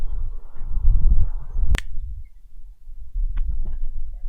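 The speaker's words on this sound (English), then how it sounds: "I'll do one of my fancy finger snaps for you" A single sharp finger snap on a farm, crisp and close, standing out briefly against a low, murky background rumble.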